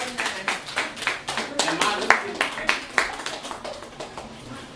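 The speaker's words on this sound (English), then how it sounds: "give yourselves a round of applause" Applause from a poetry night audience, a short burst of rhythmic clapping from a small crowd that swells and fades over a few seconds, with a brief spoken word at the start.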